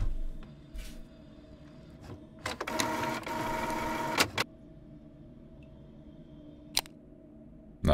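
Printer running in a call center, with brief whirring mechanical bursts, a longer loud rattling feed of several seconds, then clicks and quiet pauses.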